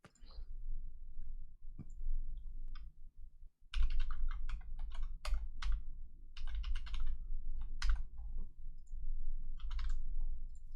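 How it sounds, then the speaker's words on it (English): Clicky typing on a computer keyboard, with bursts of rapid keystrokes and short pauses over a low steady hum, fairly faint and with no talk. "there's been a bunch of typing going on"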